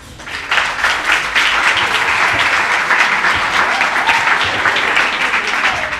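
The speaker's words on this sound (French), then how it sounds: "on peut les applaudir." A roomful of people applauds at an education discussion event held at a Belgian school with UNICEF. The clapping is loud, dense and steady, swelling quickly and holding for several seconds with no voices over it.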